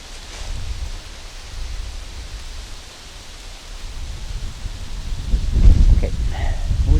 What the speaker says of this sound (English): Oh, that wind's picking up.